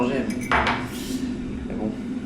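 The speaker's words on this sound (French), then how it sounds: "Après, la cuillère, c'est juste pour mélanger." A gold spoon clinks against a coffee cup while stirring, with a few quick metallic taps near the start and faint clinks afterward under a low room hum.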